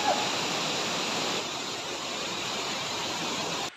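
Gaffarlı creek flooded by heavy rain, a dense, steady roar of rushing water heard up close without a break and then cutting off at the end.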